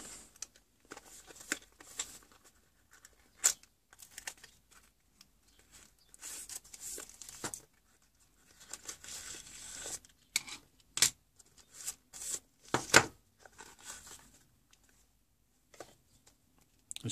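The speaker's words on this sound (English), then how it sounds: "first of all, I'll take it out of the box." A Saker multifunction scribing tool being unboxed in a workshop: scattered crinkling, tearing and tapping of packaging in short bursts over quiet gaps, close and fairly faint, no talking.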